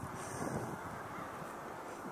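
Steady winter wind blowing outdoors by a lake shore, buffeting the microphone with a continuous broadband roar and no other distinct sounds.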